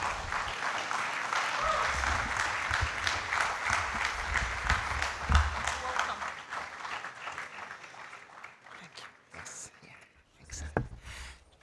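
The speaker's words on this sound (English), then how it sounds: "The applause could be better." A crowd applauds to welcome an ambassador onto the stage at a formal gathering, the clapping dense and sustained at first, then thinning into scattered claps, with a voice speaking over the fading end.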